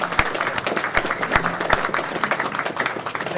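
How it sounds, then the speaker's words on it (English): A room at a mixed martial arts pre-event press conference fills with applause, a moderate crowd clapping steadily with sharp individual claps standing out. "massive round of applause, give a round of applause."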